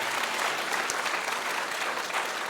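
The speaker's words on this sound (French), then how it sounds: "Cécile et Caroline, qui sont là et que vous pouvez applaudir bien fort." Audience applause at a high-school students' eloquence contest in Montreuil, a steady dense wash of many hands clapping together, fairly loud and continuous throughout with no talking over it.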